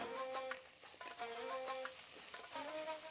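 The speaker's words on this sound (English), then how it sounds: "we're going to add the two cardamom pods now to release their flavours" Cardamom pods sizzle and fry in hot oil in a pan as part of a chicken bhuna, a steady close crackle with faint stirring, with no voices.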